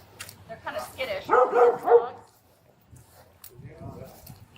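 A few short yips and barks from skittish dogs inside a house, close and fairly loud, with a brief whimpering cluster, set among pauses and faint background noise.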